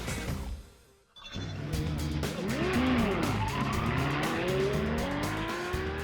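An Ian Wright X1 electric race car accelerates hard around corners with loud squealing, skidding tires and rising whine, close and continuous with no talk.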